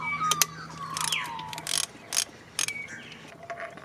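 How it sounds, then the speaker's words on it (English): A ratchet clicks in short, close bursts while undoing the long 12mm thermostat housing bolts on a 2008 Holden Rodeo Isuzu 3-litre diesel. "now we can start to undo these 12mm bolts"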